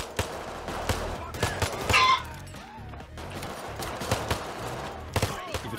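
Gunfire in the video game Payday 3, with dense overlapping gunshots and rapid bursts throughout, plus brief impact sounds, under in-game background noise.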